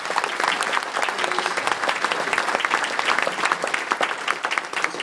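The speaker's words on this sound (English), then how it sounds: "a round of applause" Wedding guests applaud for the bride during a best man's toast, a sustained, even burst of crowd clapping filling the room, close and fairly loud, with no talking on top.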